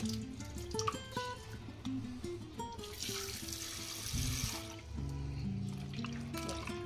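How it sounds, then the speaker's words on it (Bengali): Running tap water splashes steadily into a sink while dried fish is rinsed by hand, with shifting gurgles and clatters as the fish and water are moved about, and a surge of heavier flow partway through. "দেখো শুটকিটা এইভাবে 4-5 বার ধুইতে লাগবো"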